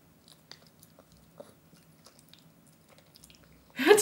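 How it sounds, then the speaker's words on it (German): A horse chews with soft wet smacking and clicking sounds, faint and irregular, until a loud rushing burst of noise at the very end. "Boah, die schmatzt ganz schön."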